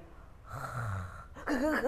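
A voice imitates snoring with a low, rough drawn-out snort, then a sudden gasp as if startling awake, close and fairly quiet.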